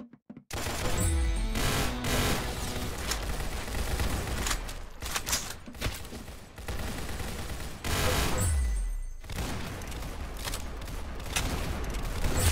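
Rapid gunfire in a competitive shooting video game on a Santa's Workshop map, dense bursts of automatic shots in a near-continuous loud barrage with brief pauses between volleys.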